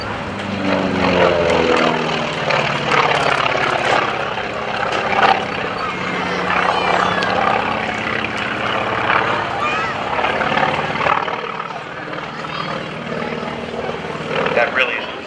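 An FM-2 Wildcat fighter with a radial piston engine flies at an airshow, giving a loud, rough, continuous propeller drone that swells and shifts as it passes, with crowd noise beneath.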